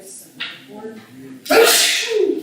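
A loud, close single sneeze bursts out in a quiet room during an election canvass meeting in Barbour County, following a brief stretch of people talking.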